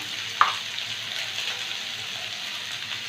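Oats mixture with chopped green chilli and salt sizzling steadily in a frying pan, with one brief sharp clink near the start and an even, continuous crackle throughout.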